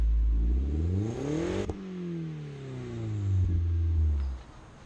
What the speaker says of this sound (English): the exhaust sounds really good. There's a nice deep sound to it, especially with the catless downpipe.